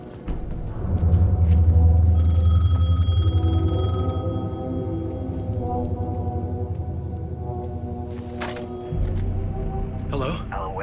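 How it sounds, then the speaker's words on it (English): A telephone rings inside the Alan Wake 2 video game, its bright electronic tone repeating over a loud, droning low rumble of in-game ambience that eases slightly toward the end. "Phone was ringing."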